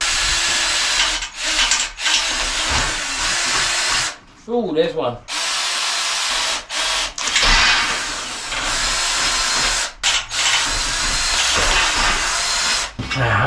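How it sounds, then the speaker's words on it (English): A power drill whines loudly in repeated bursts, biting into the panels of a Keter Darwin 6x8 plastic shed with short pauses between holes; a voice speaks briefly during one pause. "Let's get drilling. Drill holes."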